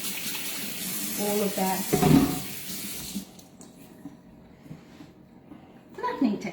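Water poured from a tap-like stream over a chicken roulade laid on a mat before flattening, a short splashing burst followed by quiet, with a person talking over it.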